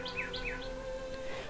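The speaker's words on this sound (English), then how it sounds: "Tiny birds are rushing into a new day." Small birds chirp at dawn in a dry Middle Eastern streambed setting, a few short quick tweets repeating close by over a steady background hum.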